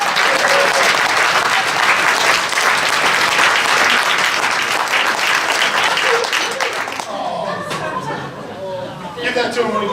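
Loud, dense audience applause greets a Newcomer of the Year award at a high school wrestling banquet, sustained for several seconds before thinning out, with crowd chatter and voices mixed in.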